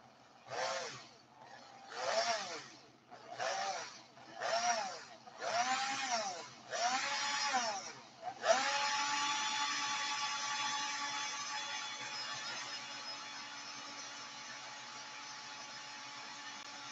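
A power drill whirs in several short bursts, spinning up and down, then runs continuously in one long steady spin that slowly settles.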